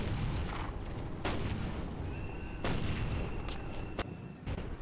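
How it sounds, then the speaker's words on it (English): A Whippet tank fires in the video game Toy Soldiers: several loud, booming shots ring out over a constant rumbling battle din, with a thin whine passing midway. "Taste my Whippet."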